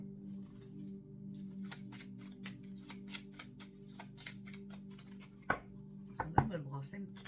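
Oracle cards being shuffled by hand, a run of soft, quick riffling taps with a few sharper knocks near the end, close and fairly faint over a low steady hum.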